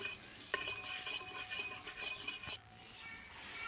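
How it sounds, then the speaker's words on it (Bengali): Eggplant frying in a pan is stirred with a metal utensil, giving repeated scraping and clinking strokes over a soft sizzle, close and fairly quiet, ending abruptly partway through. "বেগুনগুলোকে লাল লাল করে ভালো করে ভেজে নিতে হবে"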